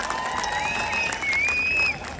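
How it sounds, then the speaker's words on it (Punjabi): Loud, continuous applause and cheering from a college audience at a Punjabi film promotion, sustained across the whole moment with a whistle-like tone gliding above the clapping. "ਇੱਕ ਜ਼ੋਰਦਾਰ ਤਾਲੀ ਦੁਬਾਰਾ ਹੋ ਜਾਏ ਯਾਰ ਪੂਰੀ ਟੀਮ ਕੇ ਲਈ"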